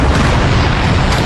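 A Mandung cannon fires in a naval battle, a loud dense boom that fills the whole moment with heavy low rumble and no talking.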